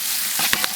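Chili bean paste sizzles in a hot wok, with a steady frying hiss and two quick scraping strokes of the spatula near the end.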